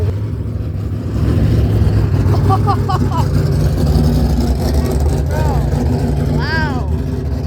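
A Mazda MX-5 at a car show revs under steady crowd noise, a loud continuous engine drone that swells briefly, with people talking nearby throughout.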